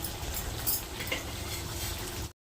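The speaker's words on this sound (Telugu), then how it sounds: "గుమగుమలాడే చికెన్ ఫ్రై అయితే తయారైతుంది" Chicken fry cooking in a pan gives a steady, close sizzle with faint stirring and clinks throughout, breaking off briefly near the end.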